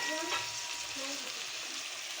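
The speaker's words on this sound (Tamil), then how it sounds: "2 பெரிய தக்காளியை வெட்டி வதக்கிக்கலாம்." Chopped tomatoes, two large ones, sauté in hot oil in a pan for banana flower chutney, giving a steady close sizzle and frying hiss with a few light stirring scrapes throughout.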